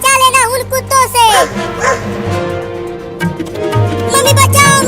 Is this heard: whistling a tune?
no